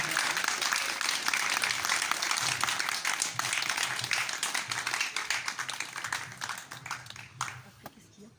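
Audience applause at a June 2019 celebration of a medical-psychological centre in Royan: dense, sustained clapping from a crowd that slowly thins toward the end, with faint voices mixed in.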